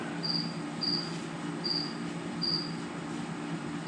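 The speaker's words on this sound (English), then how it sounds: "How do you get rid of crickets?" Crickets chirp in short, evenly spaced high trills, steady and fairly near, with a low background hum and no talking.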